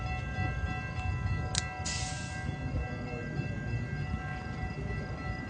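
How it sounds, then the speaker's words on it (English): An outbound express train approaching a suburban station, a low steady rail rumble with faint ringing tones, a brief sharp squeal partway through and a soft hiss, heard from a distance without speech. "There's going to be those slow express trains."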